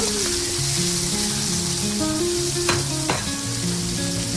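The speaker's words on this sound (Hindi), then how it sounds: "इसी तरह से हम फ्राई कर लेंगे और इसे भी हम स्लो फ्लेम पर ही पकाएंगे।" Eggplant slices frying in oil on a slow flame, a steady close sizzle with a couple of sharp utensil taps partway through, no voices.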